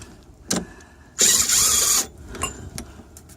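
An impact wrench works a rear hub bolt on a Volvo V50 in one loud, close burst lasting under a second, bracketed by a few metallic clicks and handling noises outdoors.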